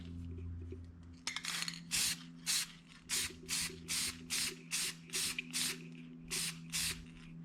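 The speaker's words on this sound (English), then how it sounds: "So just spray this really good." An aerosol can of sealant sprays onto an epoxy tumbler in about a dozen short, even bursts, each a loud close hiss separated by brief pauses, over a faint background hum.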